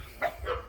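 A dog at a cabin gives two short barks in quick succession, moderately close against a quiet outdoor background.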